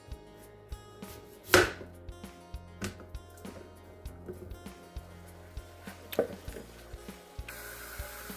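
Repeated knife strokes chop through firm cocoyam on a board, sharp irregular taps with one louder scrape, close and steady, no talking.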